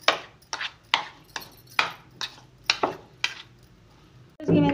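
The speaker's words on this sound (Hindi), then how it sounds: "और अब इसको मिक्स कर लें और फिर इसकी मैं बॉल्स बनाऊंगी।" Potato ball mixture with coriander and black pepper being mixed in a bowl: a series of about eight close, sharp scraping and tapping strokes at a steady rhythm, ending in a louder rustle, with no talking.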